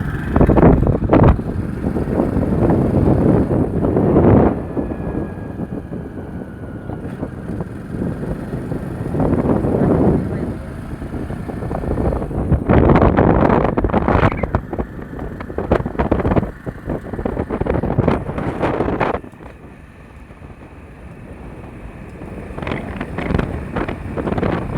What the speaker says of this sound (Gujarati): તો હવે નીકળી ગયા ચાલુ બાઇકમાં.